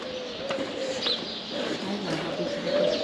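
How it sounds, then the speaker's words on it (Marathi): Birds calling outdoors, with a pigeon-like coo and faint chirps over steady background noise, moderately near. "ओ पक्षी बघा चिव चिव चिव चिव चिव चिव करतात।"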